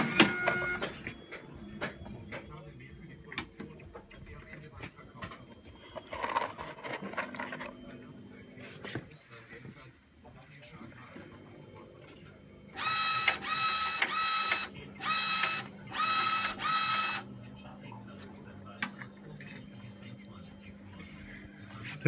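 Zebra ZE500 label printer paired with a LAB400 applicator runs on auto, sticking self-adhesive labels onto SD cards with a steady mechanical hum and bursts of whirring feed cycles, louder in the later stretch, while someone talks over it.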